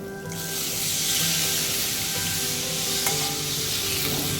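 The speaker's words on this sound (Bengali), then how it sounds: "এবার জল ঢেলে দেবো। কষানো হয়ে গেছে মশলাগুলোকে, খুব ভালো করে কষিয়ে নিয়েছি" Water hits oil-fried, well-cooked spice paste in a pan for Bengali tel koi fish curry, setting off a loud, continuous hissing sizzle that holds steady throughout.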